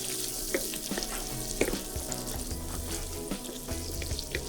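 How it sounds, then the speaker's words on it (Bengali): Steady sizzling of chopped ginger and garlic frying in butter in a pan, with occasional scrapes and taps of stirring throughout; no voices. "এবার আমরা আদা এবং রসুন কুচিগুলো একটু কিছুক্ষণ নেড়ে চেড়ে ভেজে নেব"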